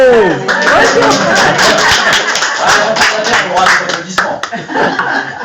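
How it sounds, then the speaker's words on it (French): A small crowd at an association's general assembly applauds with scattered clapping, mixed with laughter and overlapping chatter close by. "Merci pour les applaudissements."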